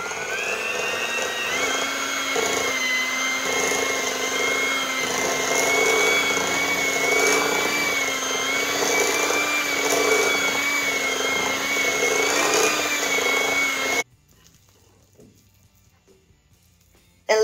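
An electric mixer whirs loudly and steadily, beating peanut butter, cream cheese and sifted powdered sugar into a filling for chocolate peanut butter pie. The motor's pitch shifts a little for about fourteen seconds, then stops abruptly into near silence.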